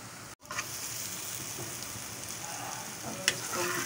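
A potato and egg mixture cooks in a pan with a steady sizzle that runs the whole time, dropping out for an instant early on, with a light clink partway through.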